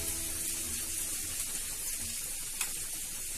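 Tomatoes hit browned onions in a hot pan while cooking paneer bhurji, giving a steady, moderate sizzle of frying with a faint clink partway through.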